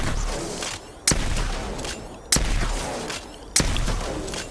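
Shotgun blasts in the video game Apex Legends, three sharp, loud booms spaced about a second apart over a steady rumble of game background noise.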